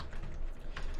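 Quick keystrokes patter on a computer keyboard during coding work, a close run of soft clicks packed into one second.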